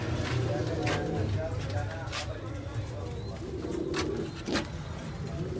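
Sialkoti rooftop pigeons coo in low, rolling calls against a busy background, with human voices talking over them and a few brief sharper sounds.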